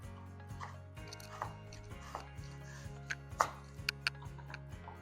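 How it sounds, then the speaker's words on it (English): A knife chops potatoes for a chowder on a cutting board, a series of light, irregular taps and thuds growing crisper toward the end, under a steady low hum of kitchen background noise. "The trick is to make sure you're pushing down there so that way you get a much easier chop."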